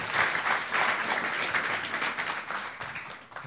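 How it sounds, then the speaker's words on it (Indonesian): Audience applause at a business talk, steady, full clapping heard fairly close and alone for a few seconds. "Tepuk tangan dong."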